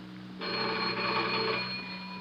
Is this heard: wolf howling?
no